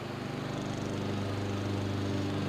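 A lawn mower runs steadily on Easter Day in a family backyard, a continuous droning engine hum with a slight pulsing rhythm, moderately distant and fairly faint, with no talk over it.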